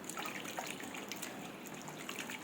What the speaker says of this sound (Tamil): இப்போது மறுபடியும் பாத்திரத்தில் போட்டு தண்ணி ஊற்றி வாஷ் பண்ணி எடுத்துக்கலாம்